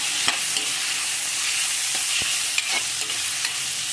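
Tomatoes frying in a pan for a drumstick leaf stir-fry, a steady close sizzle with a few sharp stirring clicks scattered through, no voices.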